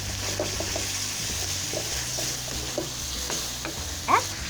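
Thai basil pork stir-fry being mixed in a pan with fish sauce and soy sauces, giving a steady close sizzle with repeated scraping stirs and a louder clatter near the end.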